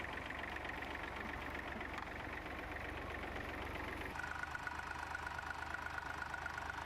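A tractor engine at a ploughing match in Orkney idles steadily with a low, even chugging hum. It sounds faint and distant, with a slight change in tone partway through.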